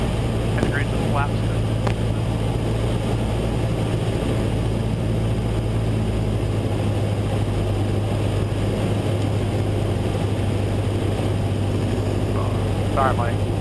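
Steady, loud cabin drone of a Cessna light aircraft in flight, slowing on the base leg with flaps extending, as a continuous low engine and propeller hum with brief voices over it.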